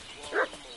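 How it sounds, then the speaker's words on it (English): A dog in the medieval game Kingdom Come: Deliverance 2 lets out a single short bark, mid-distance, over a low ambient background. "What's that dog making such a fuss about?"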